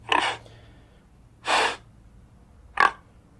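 Wild hog grunts and sniffs played from an electronic game call on a night hunt, three separate loud breathy bursts spaced about a second apart, close and alone without any talk.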